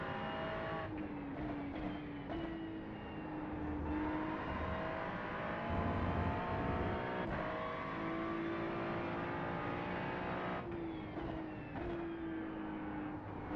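A GT3 race car engine in a racing video game drones continuously, with gear shifts stepping the pitch up and down as it accelerates and brakes, steady and fairly quiet.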